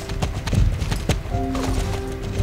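Horse hooves clip-clop at a stable in the Star Stable video game, a quick, uneven run of close hoof strikes over a low background hum, with no talk.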